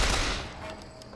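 Gunfire in the shooter BioShock Infinite comes as a quick burst of loud, close shots with a rumbling tail, lasting just over a second with no talk.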